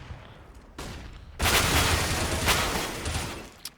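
Gunfire rattles out in a Counter-Strike match on the Cache map, a sudden loud burst of shots cutting in after a couple of sharp earlier pops and carrying dense and close for about two seconds before tapering off.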